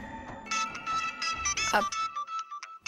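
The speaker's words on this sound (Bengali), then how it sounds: "ওর ফোনটা কিন্তু বাজছে" A phone ringtone plays a bright, repeating electronic melody, loud and close, with a brief burst of voice partway through.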